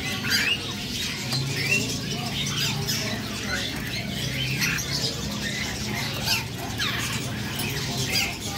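Caged bird squawking in a collection, with repeated sharp squawks and chirps of moderate loudness scattered over a continuous background rustle.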